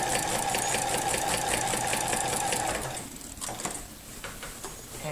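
A sewing machine fitted with a walking foot stitches through a quilt in a steady, rapid mechanical rhythm. It runs loud and constant for about three seconds, then slows and softens into lighter, uneven stitching.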